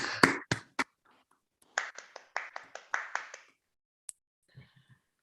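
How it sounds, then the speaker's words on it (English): Scattered hand claps from an online seminar audience sound in short irregular bursts, a few sharp claps then a quicker patter, tapering to faint taps near the close. "you can unmute and clap your hands."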